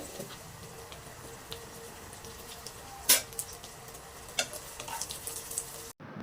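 Dried fish fritters fry in a pan with a soft, continuous sizzle, punctuated by a few sharp clinks and scrapes of a utensil as they are turned.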